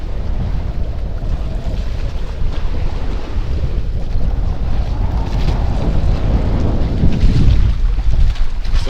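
Strong amihan northeast monsoon wind buffets a boat out at sea on the Pacific, a loud, continuous roar of gusts and water rush that swells toward the end, with no voices.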